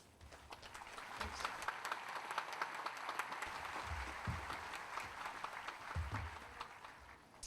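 An audience at a Nuclear Power School graduation applauds a speaker with steady, sustained clapping from a large crowd, continuous and even throughout, slightly distant in a large hall.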